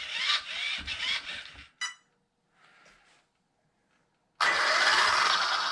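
The custom coke-can motor in an Arrma Kraton 8s RC car spins up in short bursts of whining, whirring noise. Two quick runs and a faint one are separated by silent gaps, then a loud, close, sustained run ends the stretch.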